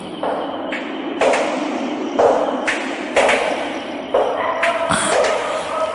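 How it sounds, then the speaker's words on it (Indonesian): Footsteps as a radio drama sound effect: six evenly spaced, firm steps about a second apart, close and hard-soled on a resonant floor, alone with no talk. "Langkah kaki."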